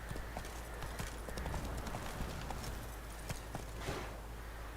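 Roach's hooves clip-clop at a steady gallop across The Witcher 3 landscape, a continuous rapid beat that stays fairly faint and even under a broad wash of ambient game noise.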